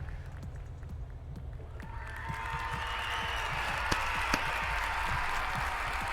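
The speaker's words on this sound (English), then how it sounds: "Crowd loving the 7th place," Crowd cheering and clapping at a race track in the sim-racing game Assetto Corsa, rising after a couple of seconds into a sustained, fairly loud wash of applause with a few sharper whoops.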